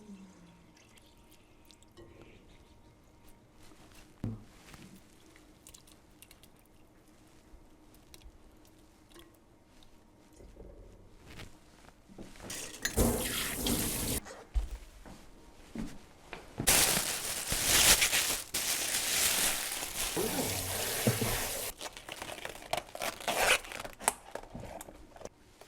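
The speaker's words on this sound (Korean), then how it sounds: "버섯물을 담궈 넣었던 버섯물을 여기 넣을 거예요" Mushroom soaking water poured over rice for mushroom rice, coming in two bursts of splashing, gurgling liquid: a short one, then a longer, steadier stream. Light clinks and handling noises come before it, with no talking.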